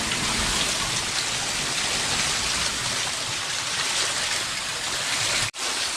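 Heavy rain pouring down steadily onto a backyard, a dense, loud, even hiss of water that continues without a break and stops abruptly near the end, with no voices.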